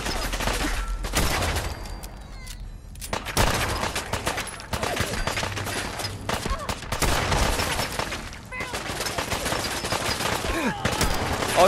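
Pistol and other gunfire in Fallout 4, dense rapid shots and bursts throughout with brief gaps, loud and close amid combat noise.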